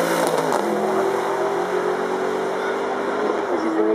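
Supercar engine at the Goodwood Festival of Speed, a loud, steady roar held for several seconds with a rising tone as the throttle opens, close by and continuous.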